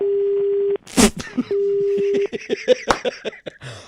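A steady electronic phone disconnect tone sounds twice during a radio prank call, each cut off by sharp clatters and rustling, then a voice talks through the rest of the clip.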